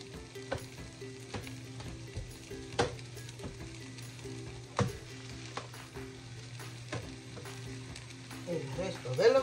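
Chinese fried rice with shrimp and egg sizzles steadily in a hot pan, with occasional sharp scrapes and clinks of stirring over the frying.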